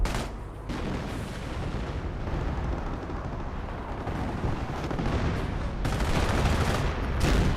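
A dense, continuous artillery barrage in the World War II strategy game Company of Heroes, with overlapping booming blasts and rumbling explosions that stay loud and close throughout.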